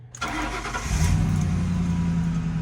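A car engine cranks briefly and catches, then settles into a steady, fairly loud idle with a low hum continuing to the end.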